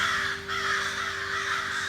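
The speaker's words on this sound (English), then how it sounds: "The crows above the forest call." Crows caw above a forest, a harsh, rough calling that stays continuous and fairly loud, with a steady hum running underneath.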